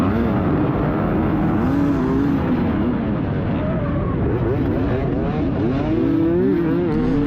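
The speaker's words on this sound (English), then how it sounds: "I love a 2-stroke on the start" A 2020 Beta two-stroke dirt bike at a hare scramble race start screams loudly and continuously as other racing bikes rev and accelerate around it, close and dense.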